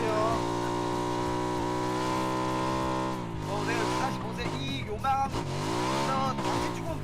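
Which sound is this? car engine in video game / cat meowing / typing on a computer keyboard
car engine in video game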